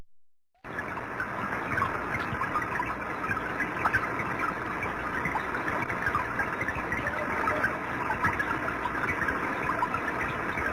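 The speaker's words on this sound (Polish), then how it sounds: "deszcz powoduje tak dźwięk w morzu" A dense, steady underwater hiss of rain striking the sea surface, with faint crackling ticks mixed throughout and no voices.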